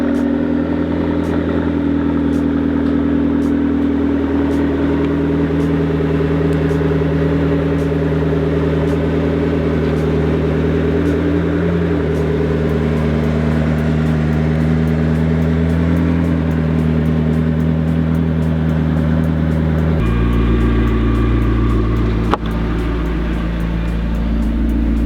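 A McLaren sports car cruises on slightly messy roads, its engine droning steadily and loudly with a deep low rumble, shifting to a lower tone near the end as the pace changes; no talking.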